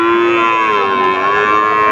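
Cattle at a busy livestock market, a loud, close, sustained lowing moo holding steady for the whole stretch, with no talk over it.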